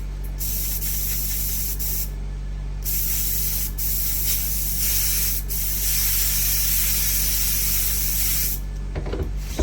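A mini spray gun fed by a pressure pot hisses steadily and loudly while spraying miniature pines, cutting off briefly between bursts before the spray resumes over a constant low hum.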